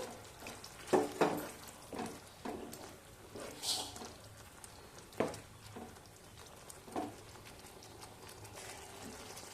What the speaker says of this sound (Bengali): এবার ভালো করে কষিয়ে নিয়ে মধ্যে পনির দিয়ে দেবো